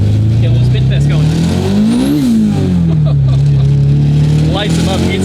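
A Honda K24-swapped BMW E30 making about 750 horsepower revs hard in first gear on a tire-spin test, its engine note rising and dipping in one sweep, loud and close, with a faint tire squeal and talk over it.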